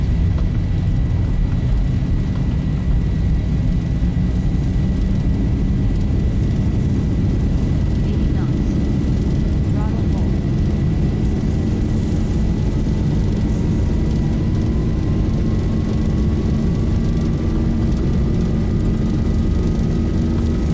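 Boeing 737 jet engines roar steadily at takeoff thrust in a flight simulator departing Lyon Saint-Exupéry, a loud sustained rumble with a whine rising slowly as the aircraft accelerates, while cockpit voices talk over it.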